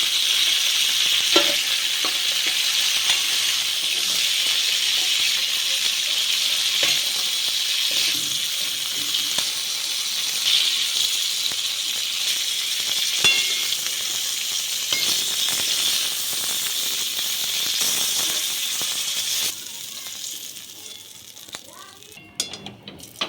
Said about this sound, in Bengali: খুব বেশি ভেজে রান্না করলে কাঁকড়ার টেস্ট পাওয়া যাবে না তো এরকম হালকাভাবে ভেজে নিয়েছি